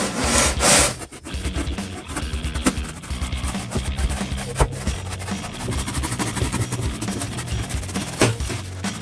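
A hand saw cuts a piece for a cosplay greatsword modeled on a Monster Hunter weapon. After a brief knock at the start, loud, close, continuous rasping strokes follow in a steady back-and-forth rhythm, with no speech.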